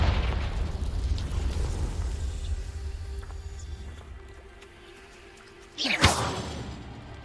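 A Confringo blasting spell goes off in Hogwarts Legacy: after several seconds of low, fading rumble, a single sharp, loud blast cracks close by and trails off into a brief rumble.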